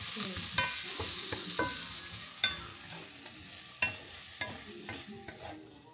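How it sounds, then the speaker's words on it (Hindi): Vegetables sautéing in a pan for a rajma gravy, a soft continuous sizzle with occasional distinct knocks and scrapes of a utensil against the pan, close and unaccompanied by voices. "तो उसकी ग्रेवी के लिए मैं पहले वेजिटेबल्स सॉटे कर रही हूँ"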